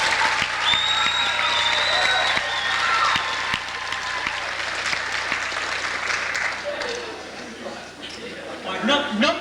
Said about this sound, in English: Let's have a big round of applause for everybody up here.